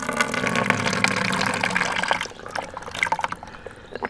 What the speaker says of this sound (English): you will be able to see the water coming from the other part of the nose